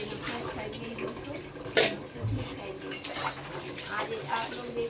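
Dishes, pots and pans being washed by hand: scattered clinks and clatters of metal utensils with running water, moderately close, with a voice talking over parts of it.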